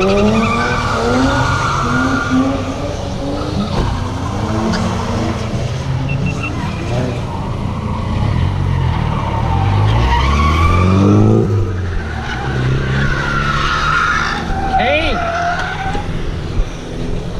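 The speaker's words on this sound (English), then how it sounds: "I've definitely never drifted a Ford Courier before" A stock Ford Courier light truck on old white-wall light-truck tyres drifts, its engine revving hard while the tyres squeal and skid in repeated sweeps, loud and close throughout, with voices talking underneath.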